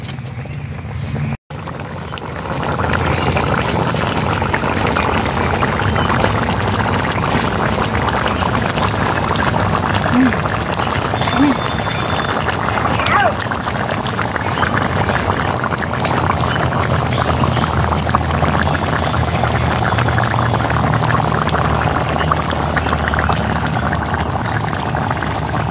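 Coriander chicken curry with ground coriander leaf paste bubbling in a pot, a loud, continuous simmering burble held steady throughout.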